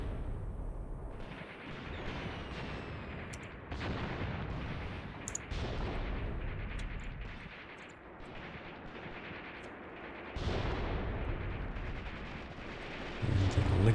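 Artillery barrage in the Graviteam Tactics war game, ten rounds per gun: a dense, continuous rumble of booming shell fire and blasts, loud and sustained, with a sharper surge of impacts near the end.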